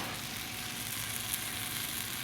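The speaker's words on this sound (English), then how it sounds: "You can hear that sizzle." Steady, crackling sizzle of an Elvis Presley sandwich frying in a pan on a stovetop, a continuous hiss with faint pops, fairly quiet and close, with no voices.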